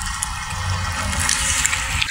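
Tidal water rushes and washes steadily along a shore as it recedes, a dense close broadband swash with small splashes, no voices over it.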